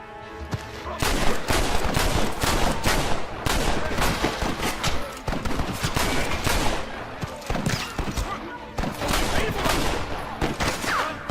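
Gatling gun in Red Dead Redemption firing long rapid bursts of gunfire, dense and loud, in repeated volleys broken by short pauses across the whole stretch, with some voices mixed in.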